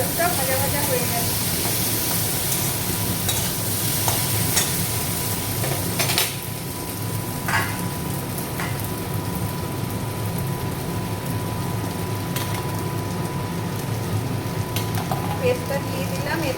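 Potatoes fry in a pan with a steady broad sizzle, a few clinks of a spatula stirring them, and occasional talk over the hiss.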